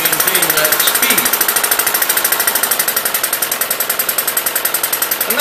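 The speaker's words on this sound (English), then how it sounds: "See how it opens the throttle to maintain the engine speed even though there's a load on it?" Small Webster engine running under load with its governor working, a loud, fast, steady chuffing knock that repeats in a tight even rhythm, with someone talking over it.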